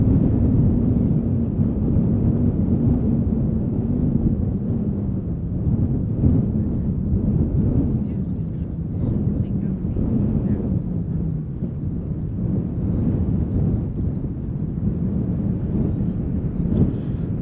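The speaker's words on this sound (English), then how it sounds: "behind it is a Triple-7 arriving from Doha" A Boeing 777 airliner arriving from Doha at Schiphol Airport gives a deep, steady rumbling roar that holds for the whole stretch, with a slowly shifting engine drone and no voices.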